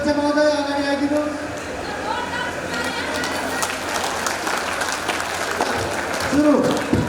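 A crowd at a Nepali cultural festival claps loudly and continuously, the applause swelling again near the end, with a voice speaking over the clapping.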